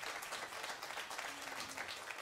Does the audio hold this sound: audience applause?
yes